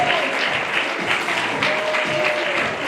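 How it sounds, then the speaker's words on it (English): Audience at a senior variety show breaks into steady, sustained applause, a dense wash of clapping hands filling the room from start to finish with faint voices mixed in. "Big round of applause."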